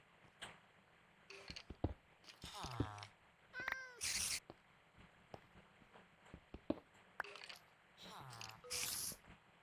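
A cat meows repeatedly in the Minecraft video game, several short, clear meows spread across the stretch alongside small clicks and ticks.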